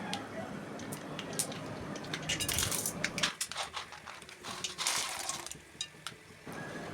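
Mustard seeds and urad dal splutter and crackle in about three spoons of hot oil, a steady close-up run of sharp popping and sizzling with denser bursts throughout.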